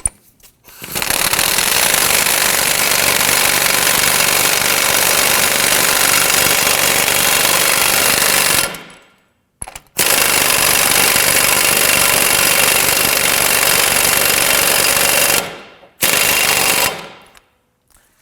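An impact wrench snugs an axle nut on a 2008-2011 Ford Focus front knuckle, hammering in long loud close bursts, with two short gaps and a brief final burst.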